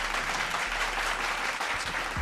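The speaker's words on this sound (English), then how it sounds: "Have a round of applause for that right there." A studio audience applauds in a steady, dense wash of clapping that holds evenly from start to finish with no break.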